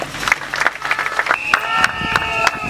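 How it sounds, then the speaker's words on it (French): Applause for a student's project at an academic-year opening ceremony: scattered, uneven hand claps, with sustained tones and a few voices mixed in. "Est-ce qu'on peut applaudir ce travail?"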